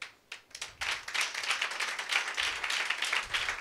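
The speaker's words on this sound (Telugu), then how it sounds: "కొట్టండి చప్పట్లు గట్టిగా" A church congregation is clapping hands together in a dense, rapid, continuous patter at moderate loudness that builds after a brief pause near the start.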